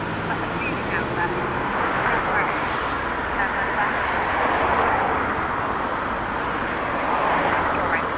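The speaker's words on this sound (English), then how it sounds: "I can't hear you very well, the traffic noise" Road traffic at a busy street corner, a dense, continuous roar of passing vehicles mixed with wind buffeting the microphone, loud and unbroken, with someone talking faintly underneath.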